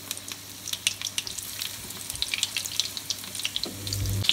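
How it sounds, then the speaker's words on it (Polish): Soft, steady sizzling of spinach pancakes frying in oil, with scattered crackles and pops over a low background hum. "Smażyć około 3 do 5 minut z każdej strony lub do uzyskania złoto-brązowego koloru."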